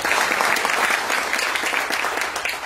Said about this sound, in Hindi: एक बार जोरदार ताली से इनका स्वागत